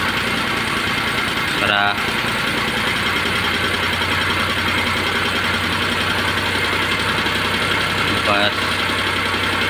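A Suzuki Multicab with an F6A engine idles steadily after a carburetor adjustment, a continuous close rumble with a faint periodic knock and vibration, while someone speaks briefly over it.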